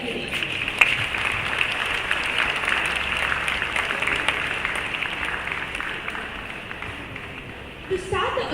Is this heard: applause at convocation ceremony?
yes